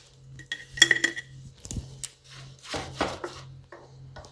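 A spoon scoops ginger pickle into a dry jar, with clinking and scraping of metal on glass and soft wet plops in a short close-up sequence, no voices.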